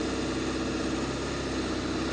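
Ford 7.3 Powerstroke diesel truck pulling a 15,900 lb trailer up a steep driveway, a steady, dense, loud diesel engine drone with no breaks.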